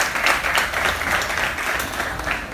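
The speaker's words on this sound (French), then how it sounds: "je voudrais vraiment que vous applaudissiez du fond du cœur Sana, Khadija et Youssef" Audience applause fills a café politics evening, a steady dense wash of clapping from a roomful of people holding an even level throughout.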